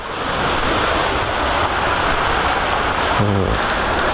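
Lan Sang waterfall in Tak, Thailand, pours steadily in tiered cascades, a loud continuous broadband rush of falling water filling the whole clip, with a brief low tonal blip near the end.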